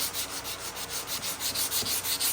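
Scrap wood is sanded by hand for a mountain-shaped shelf, a close, steady back-and-forth rasp in quick even strokes with no voices.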